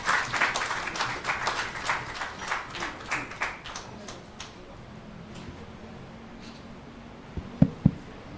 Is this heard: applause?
yes